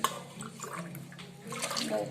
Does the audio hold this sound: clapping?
no